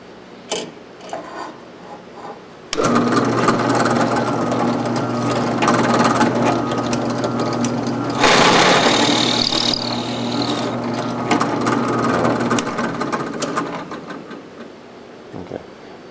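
A drill runs steadily on a part clamped in a vise for a woodworking top, a loud continuous whir with a brief higher-pitched whine partway through, then spinning down.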